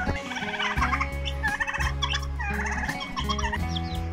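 A free-ranging poultry flock of silkie chickens and other fowl out grazing, with repeated gobbling calls and clucks close by over a steady low background hum.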